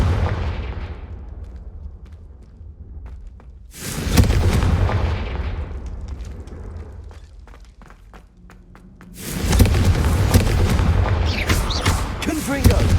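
Confringo fire spell blasts in the video game Hogwarts Legacy land as two heavy booming explosions with rumbling tails, one mid-clip and one near the end, loud and close, separated by a quieter stretch of crackling game sound.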